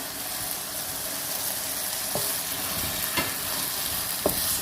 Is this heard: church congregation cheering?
no